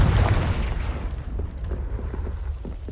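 A Confringo fire-blast spell in Hogwarts Legacy lands as a loud, deep boom that quickly fades into a rumbling, crackling tail, close and heard without speech.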